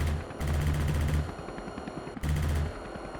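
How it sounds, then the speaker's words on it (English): An infantry firefight in a helicopter video game, with loud sustained rattling machine-gun fire in two long bursts over a steady background rumble, heard alone without talk. "these guys are having a firefight."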